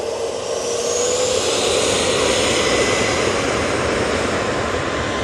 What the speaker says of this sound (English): British Airways coming in